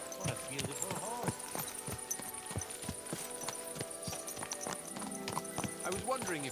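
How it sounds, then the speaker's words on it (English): Rhythmic clip-clop of horse hooves in Kingdom Come: Deliverance II plodding along at a steady pace, with a game-style musical backdrop and someone talking over it. "My, what a beautiful horse."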